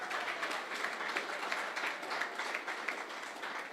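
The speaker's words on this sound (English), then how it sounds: "Big round of applause." An audience gives steady, moderately distant applause at the Calance Open 2025 prize ceremony at Qutab Golf Club in Delhi, dense clapping sustained throughout.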